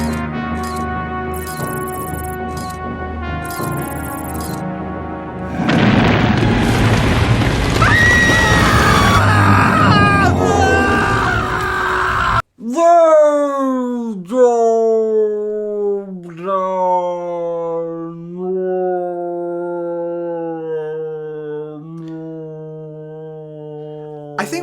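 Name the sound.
movie screaming effect over slowed-down sound of being dragged through cave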